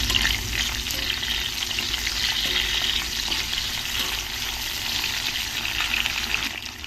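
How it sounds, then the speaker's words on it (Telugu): Onions, curry leaves and garlic fry in a pan with a loud, close, steady sizzle and occasional stirring, no talk over it. "కొద్దిగా కరివేపాకు, కొద్దిగా వెల్లుల్లి, కొద్దిగా వేయించుకొని ఉల్లిపాయ ముక్క పెద్ద కట్ చేసుకొని"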